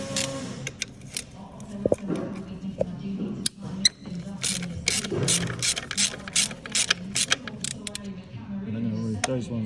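Ratchet wrench working on 10mm bolts of a Mazda RX-8 during an air pump replacement, rapid clicking pawl bursts in uneven runs, close up, with a voice talking over parts of it.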